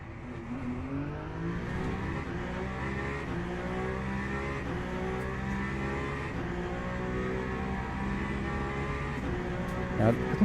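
Peugeot race car engine in a Le Mans endurance racing video game, a steady loud drone with shifting pitch as it revs through gears, continuous for the whole stretch with a brief sharper burst near the end.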